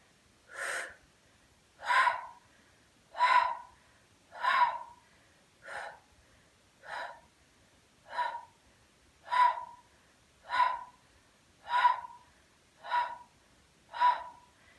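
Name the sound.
exhaling during an abdominal exercise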